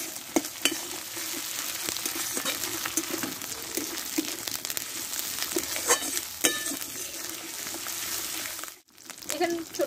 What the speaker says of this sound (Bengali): এবার এটা দিয়ে দেবো একটা টমেটো, আর এখানে দেবো 1/2 চামচ মতো আদা বাটা, দিয়ে একসঙ্গে কষে নেব